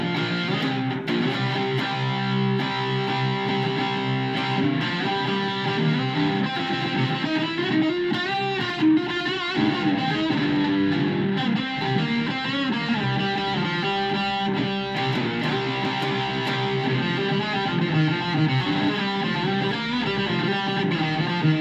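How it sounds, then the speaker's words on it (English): Electric guitar played through a crunch setting with mild distortion on the bridge pickup, a steady, dense run of strummed and picked chords and riffs filling the whole stretch at even loudness, with no voices. "Now let's go for the crunch setting or mild distortion"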